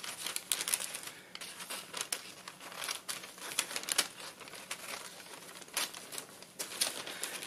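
A smocking transfer sheet is cut into strips for fabric, with crisp, close, irregular paper snips and rustling crinkles.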